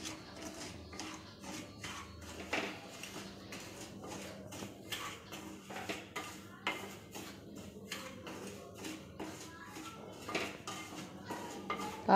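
Semolina is dry-roasted in a pan for rava kesari, heard as a steady series of metal utensil scrapes and clinks against the pan, quiet and close, with no voices.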